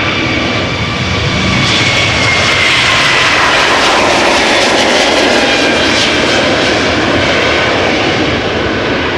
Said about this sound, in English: Nice, beautiful A321 Neo on its way to Istanbul